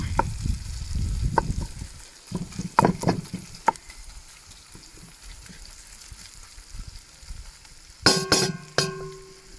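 500 grams of mince sizzling in a camp oven while being broken up, soft frying hiss with scraping and clinking stirs, then a cluster of sharp metallic clinks near the end.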